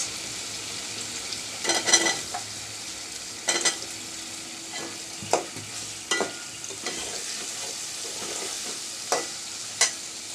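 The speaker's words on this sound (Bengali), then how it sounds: "মাংসটা আর ভাজবো না দিচ্ছি আমি কিউব করা পেঁয়াজ" Cubed onions fry in a pan with chicken pieces, a soft continuous sizzle broken by scattered spatula scrapes and clatters, heard close with no talking.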